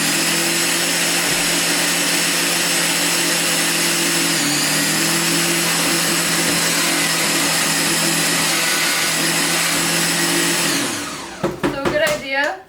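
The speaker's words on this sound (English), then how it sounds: "So I got my food processor." A food processor grinds ingredients for peppermint candy cane macarons, a loud, steady whirring drone that shifts pitch slightly partway through, then winds down and stops near the end, leaving a few clattering knocks.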